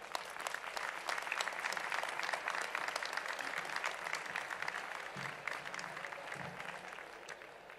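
Audience at a Valdepeñas honours and distinctions award ceremony gives sustained applause, a dense, even clapping that lasts throughout, heard from within the hall with faint voices beneath.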